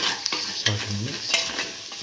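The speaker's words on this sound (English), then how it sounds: "Thoroughly salt and mix." A spoon stirs a black lentil and ash gourd mixture with tomato, mint and salt in a hot pan, giving a few quick scraping strokes over a soft sizzle, close and clear.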